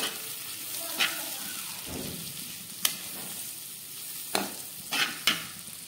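A spatula stirs chili powder, turmeric, coriander powder and garam masala into chicken egg fried rice in a hot pan, a soft steady sizzle broken by a few sharp metallic scrapes and clinks.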